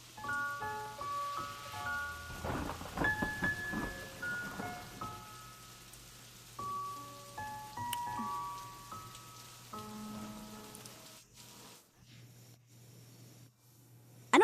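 Steady rain patters on a surface over a soft backdrop of sustained tones, with no distinct thunder; the downpour holds at an even, moderate level, then briefly thins near the end.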